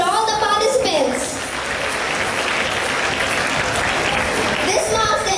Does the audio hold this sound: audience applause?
yes